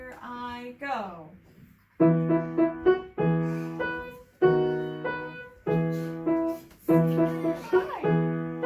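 A piano plays tonic and dominant fifths in short repeated chords, about six evenly spaced, clear, close struck tones after a brief sung or spoken lead-in.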